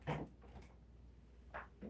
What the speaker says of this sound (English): Let me shut this door on the way.